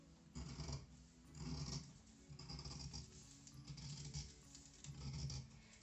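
Scissors cutting through fabric close to a sewing pattern, repeated soft crunching snips in irregular bursts with brief pauses, close and moderately quiet with no talk.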